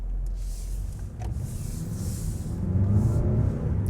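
A 2024 Mercedes GLB facelift diesel with front-wheel drive accelerates in sport mode, its engine a steady low rumble with broad road and wind noise from inside the cabin, growing slightly louder as it pulls.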